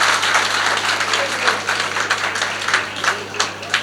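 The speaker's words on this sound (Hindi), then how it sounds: "एक बार तालियां बजा दीजिए इनके सम्मान में।" Audience clapping at a Hindi comedy stage show, a steady dense patter of many hands that swells and dips over a low electrical hum, with no talking.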